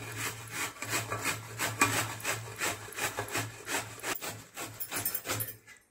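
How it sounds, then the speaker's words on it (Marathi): A peeled bottle gourd scraped against a grater, steady rasping strokes in quick rhythm, close and fairly loud with no talking, fading at the end. "सगळा जो दुधी भोपळा आहे तो किसून घ्यायचा आहे"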